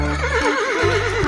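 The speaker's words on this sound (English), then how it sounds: "H for horse." A horse gives a loud, close whinny, a wavering high-pitched neigh that trembles rhythmically, with a low snorting breath at the start and end.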